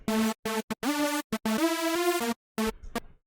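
A single oscillator of a hardstyle saw synth lead plays alone, unprocessed, in a staccato riff of clipped stabs and sustained notes with sliding pitch, loud, buzzy and harmonically rich.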